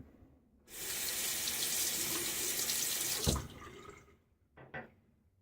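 Cold water gushes steadily from a bathroom tap for a few seconds while a safety razor is rinsed during a shave with a rare Gillette flat-bottom Tech razor, then shuts off, followed by a couple of brief clinks.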